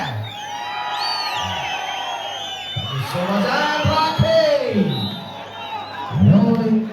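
A crowd at a Deepavali kabaddi cup semi-final whoops, yells and cheers loudly in rising bursts, with a commentator's voice talking over the din.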